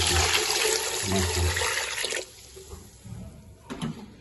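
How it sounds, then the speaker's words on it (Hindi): Water poured into a pot of mutton trotter soup, a loud, continuous rushing splash for about two seconds that then cuts off, leaving faint trickles and a soft clunk near the end. "और पानी डाल दिए"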